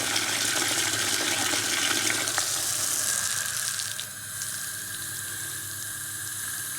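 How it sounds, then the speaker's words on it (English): Water pours steadily from a tap into a container of coco coir, a broad continuous hiss and rush that eases slightly partway through, then carries on evenly. "As I'm filling this container, it's, you know, it's soaking up the water."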